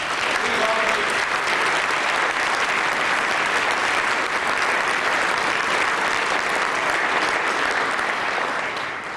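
Loud, dense applause from a luncheon audience at an award event, steady and sustained for about nine seconds before easing slightly at the end.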